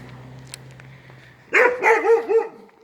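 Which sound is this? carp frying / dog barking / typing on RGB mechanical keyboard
dog barking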